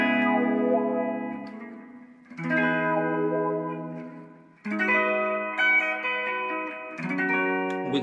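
Electric guitar plays the rhythm part of a song, strummed chords in several sustained phrases with short gaps between them, with effects and a touch of reverb, no talking.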